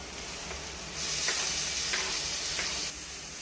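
Tomatoes hit hot oil in a pan of frying moong dal and set off a loud, steady sizzle. The hiss swells for about two seconds and then settles back to a softer frying crackle. No one talks over it.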